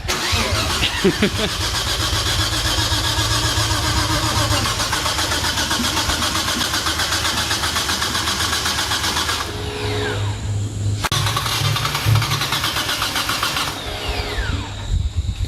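An RB25 engine with lumpy cams, first started after four years, cranks and catches, then runs at a loud, close, choppy idle that cuts out briefly and restarts before idling again.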